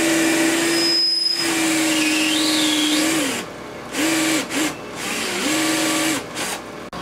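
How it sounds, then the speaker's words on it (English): A power drill bores holes for fitting a calcium reactor on a reef aquarium setup, its motor whining steadily with rising and falling pitch, stopping and restarting in several bursts, close and loud. "As Scott drills holes for installing the calcium reactor"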